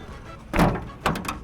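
Two solid thunks, one after another, like a storage compartment door on a converted bus swinging shut and latching, close by with a short pause between them.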